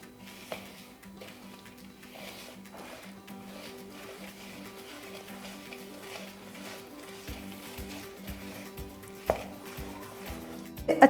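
Almond cookie batter with vanilla essence being mixed in a bowl, soft irregular scraping and clinks of utensil against the bowl, quiet and close, with a few sharper knocks toward the end.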